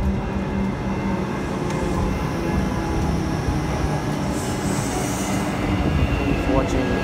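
A Metro train at Williamstown North station rumbles loudly and continuously alongside the platform, with faint wheel squeals and clattering, and a voice speaking briefly beneath it.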